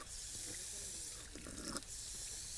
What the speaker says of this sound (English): Obviously we have to wash our hands first and then probably grab it from there